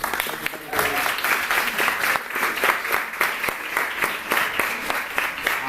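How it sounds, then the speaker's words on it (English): A gathered audience at a vegan cheese tasting event gives a round of applause, steady, crisp hand clapping from a modest crowd, close and sustained for several seconds. "can we give him a round of applause, please?"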